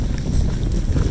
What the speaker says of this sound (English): the wind is definitely coming in now